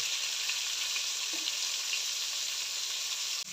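Steady, close sizzling of vegetables frying in a pan, an even crackling hiss throughout with no talking.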